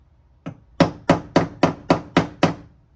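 A hammer strikes a dented, creased panel eight times in a steady, even rhythm, each blow sharp, loud and close.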